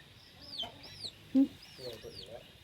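Wild junglefowl chicks and chickens cluck and peep in a tree, high chirping calls mixed with a few short, low clucks over faint background sounds.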